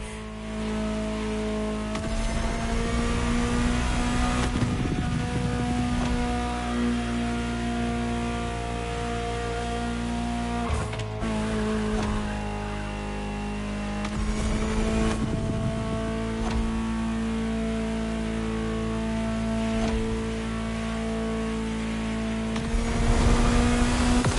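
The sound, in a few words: Ferrari supercar engine, from a video game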